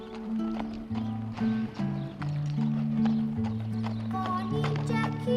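Horse hooves clip-clop in a steady trot as a horse pulls a little cart, the rhythmic knocks mixed with cheerful music and singing throughout.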